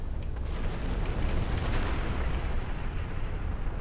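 A starship explodes in Star Trek Online as a sustained, dense rumbling roar with faint crackles, steady and fairly quiet over a few seconds.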